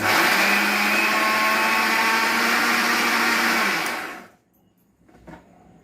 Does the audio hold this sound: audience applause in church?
no